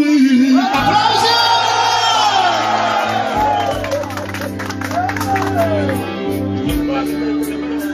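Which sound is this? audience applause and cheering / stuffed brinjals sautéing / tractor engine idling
audience applause and cheering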